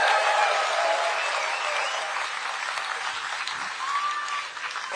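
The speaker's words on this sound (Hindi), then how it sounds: "एक बार ताली बजाकर इनका स्वागत करें।" Steady audience applause at a political rally fills the clip, a dense crowd clapping continuously, fading slightly before the end.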